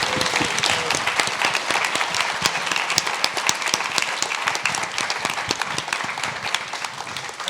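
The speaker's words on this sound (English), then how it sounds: "Big round of applause for Operator." A crowd at a Miami Art Week 2023 talk applauds Operator with dense, sustained clapping, loud and continuous throughout with no pause.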